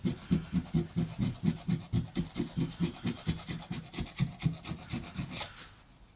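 A scraper works along the spoiler of a Jaguar XKR, taking off old tape in a close, steady run of short rhythmic scraping strokes that ease off near the end.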